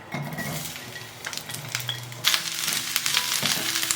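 Side ingredients stir-fry in a little oil in a clay pot, giving a continuous close sizzle with clinks and scrapes of a utensil against the pot.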